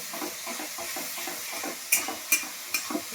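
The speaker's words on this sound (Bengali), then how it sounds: "মশলাটা আমার ভাজা হোক।" Spices frying in a pan for chicken kosha give a steady close sizzle, joined in the second half by several sharp metallic spatula scrapes.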